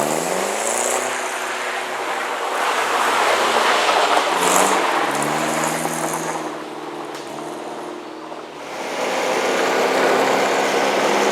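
A Lotus Europa sports car is driven hard on a twisty country road, its engine loud and close as it winds up through the revs, dips briefly, then climbs again, with no talking.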